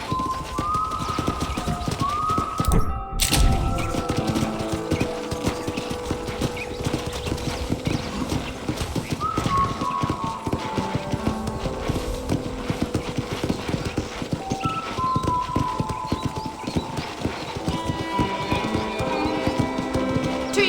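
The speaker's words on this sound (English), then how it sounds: "I picked out a fine horse for you. Giddy up!" Horse hooves clip-clop steadily and continuously in Red Dead Redemption, with a brief whinny and light game music in the background.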